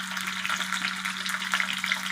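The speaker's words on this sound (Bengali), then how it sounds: "পটলটা ভাজতে কিন্তু একটু টাইম লাগবে।" Pointed gourd (potol) pieces fry in hot oil, giving a steady, dense sizzle close by, with no talking.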